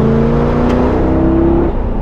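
A 1978 Pontiac Trans Am engine pulls hard under acceleration, a loud, steady drone with a rising tone held for about two seconds before the pitch and load ease off.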